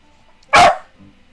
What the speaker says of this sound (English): I put you outside, but all you're going to do is bark, bark, bark